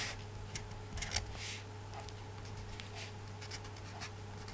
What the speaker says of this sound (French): Écrit mal mon crayon